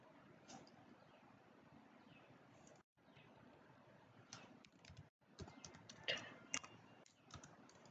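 Quiet, irregular clicking of keys as someone types on a computer keyboard in MS Word, with a few short pauses and some louder taps near the end.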